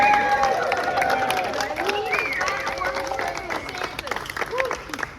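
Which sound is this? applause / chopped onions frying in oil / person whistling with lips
applause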